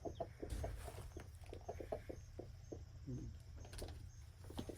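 Hens clucking inside a chicken coop with nesting boxes, giving soft, low, irregular clucks and murmurs close by in a quiet setting.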